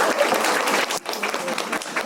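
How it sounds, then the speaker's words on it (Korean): A packed late-night bookshop audience breaks into steady, dense applause that stays loud and close, with one brief dip partway through. "박수 한번 칠까요?"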